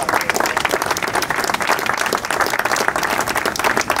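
An outdoor crowd at the Bud Fowler monument dedication in Lynn, Massachusetts claps in steady, sustained applause that fills the whole moment, dense and even with no talking heard.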